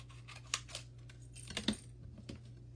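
Scissors cut the sides of a strip of packing tape, giving a few quiet, sharp snips spread over a couple of seconds over a steady low hum, with no talking.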